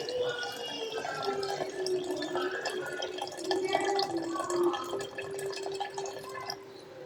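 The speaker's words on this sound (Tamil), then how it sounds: "இப்போ நம்ம புளி தண்ணி ஆட் பண்ணிக்கலாம்." Tamarind water pours steadily into a pot of rasam with a soft, continuous trickling and splashing, no voices.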